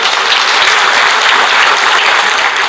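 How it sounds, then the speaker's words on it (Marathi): Loud, dense applause from a large crowd at a Maharashtra political rally, a steady unbroken roar of clapping close up and sustained throughout. "जोरदार टाळ्या पुन्हा एकदा लागला."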